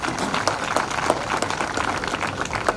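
An audience at a police training course cultural programme gives a burst of loud, continuous applause with closely packed claps throughout.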